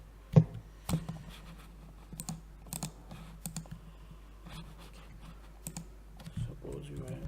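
Computer keyboard typing while writing a unit test in code, a run of scattered light key clicks at close range, quiet overall, with a few louder taps near the start and a soft voice now and then.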